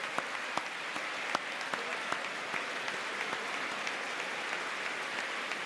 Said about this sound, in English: Now they stood up and clapped because they want to take credit for criminal justice reform